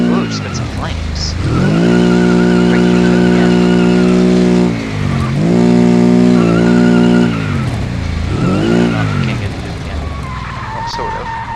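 A Volkswagen performance car races by with a loud, rising and falling engine note and tire skids in long sweeping passes, with voices talking over it.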